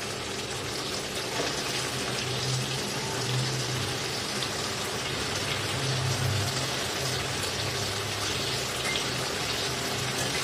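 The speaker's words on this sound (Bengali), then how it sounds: "তো চিকেনগুলো আমি দিয়ে দিলাম।" Chicken pieces go into a hot pan for pepper chicken and set off a loud, steady sizzle and hiss that runs the whole time without a break. Nobody speaks.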